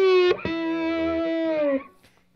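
Slide guitar lick in open E tuning run through effects, a plucked note followed by a sustained sliding tone that bends and fades out, close and alone with no talking.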